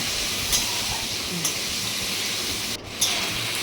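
Black-headed shrimp frying in a pan with panch phoron spices, a steady, close hiss of hot oil with a few soft scraping clicks of stirring spaced through it.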